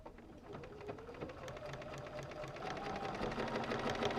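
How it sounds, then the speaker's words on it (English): An electric sewing machine stitching quilt fabric, a fast steady mechanical chatter that grows slightly louder toward the end, heard close and alone. "this time it's sewing"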